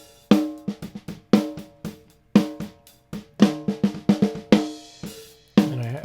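Unmixed, dry snare drum with no reverb struck in a quick repeated pattern, each sharp crack ringing with a tonal resonance that decays between hits, close and fairly loud.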